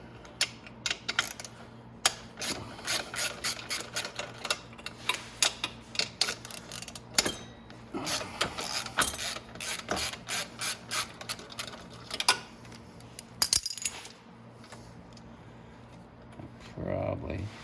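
A hand ratchet clicks in repeated quick bursts while bolts are backed out of the motor mount on a Venom X22r 250cc dirt bike, close and fairly faint, with short pauses between runs of pawl ticks.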